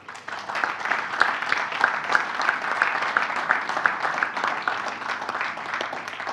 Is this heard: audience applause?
yes